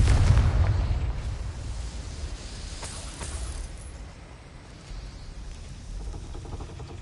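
Confringo fire spell blasting in the video game Hogwarts Legacy, a loud booming explosion at the start that decays into a long rumbling, crackling roar.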